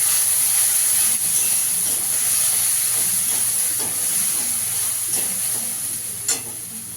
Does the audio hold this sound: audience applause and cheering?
no